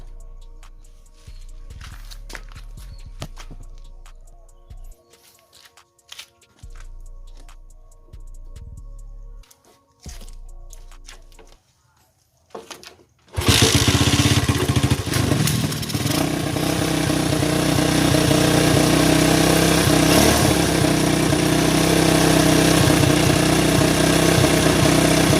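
A Honda GL Max 100 motorcycle is cranked with several short, uneven bursts of engine and starter noise, then catches and settles into a loud, steady idle held close by for the remaining stretch.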